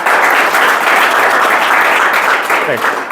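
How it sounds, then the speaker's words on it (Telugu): Steady classroom applause for a student during an arithmetic and reasoning lesson, a dense burst of many hands clapping throughout, loud and close, with a voice briefly heard underneath. "ఒకసారి క్లాప్స్ కొట్టండి అబ్బాయికి"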